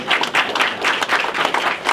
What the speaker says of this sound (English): give my friend and my business coach a round of applause